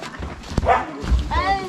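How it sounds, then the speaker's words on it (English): Puppies yip and whimper with high, wavering cries close by, mixed with voices and movement around them. "Another puppy, there's a new puppy."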